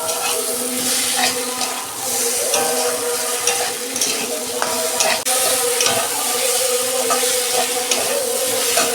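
Vegetables being stir-fried in a pan for a fish curry, a loud, close, continuous sizzle mixed with steady scraping and tossing from stirring.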